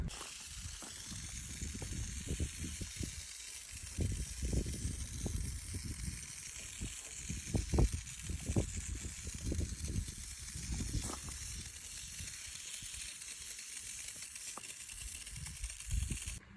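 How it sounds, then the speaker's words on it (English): Oven cleaner hisses from a spray can onto a V8 cylinder head from an old HQ ute, a long steady spray with small bursts and handling clatter underneath, close by and without talk. "So what I'm going to do is a bit of oven cleaner."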